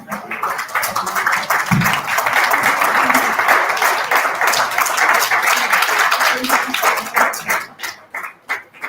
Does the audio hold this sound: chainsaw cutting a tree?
no